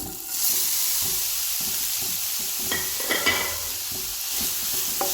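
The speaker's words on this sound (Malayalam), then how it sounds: "എന്നിട്ട് ഇതിലേക്ക് നമ്മൾ ഗ്രേറ്റ് ചെയ്ത് വെച്ചിരിക്കുന്ന ക്യാരറ്റ് ഇതിലേക്ക് ഇട്ട് കൊടുക്കാം." Grated carrot sautés in ghee in a pan, giving a bright, continuous sizzle with rhythmic scraping strokes of a stirring spoon throughout.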